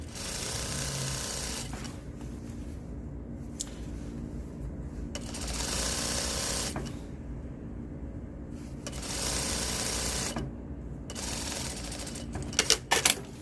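A sewing machine stitches fabric for a jumpsuit in bursts of rapid, even mechanical chatter, several runs separated by short pauses, close and clear, with small handling clicks near the end.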